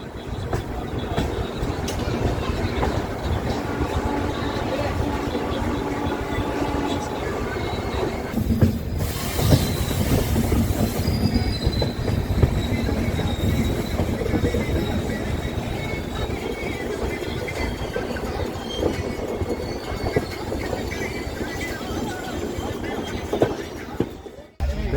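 A passenger train runs at night with a continuous rumble, rhythmic clickety-clack of wheels and occasional squealing, heard steadily from inside for the whole stretch, with brief bursts of louder noise and faint voices now and then.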